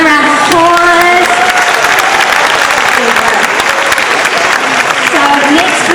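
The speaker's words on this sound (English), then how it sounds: "Give them another round of applause." Loud sustained audience applause and some cheering in an arena crowd at a Diwali festival stage show, a dense continuous roar of clapping with a few voices briefly audible near the start.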